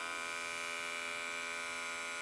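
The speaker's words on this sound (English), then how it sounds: "So just keeping the clipper against the head." An electric hair clipper in a men's basic haircut, a steady close buzzing hum held against the head, even and unbroken, with no talk.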